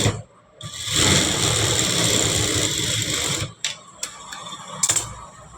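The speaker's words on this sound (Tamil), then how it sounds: "இதில் எட்ஜி தையல் போடணும்." A sewing machine running an edge stitch on a belt piece, one sustained fast whirring run of about two and a half seconds, then short stop-start bursts, loud and close with no talking.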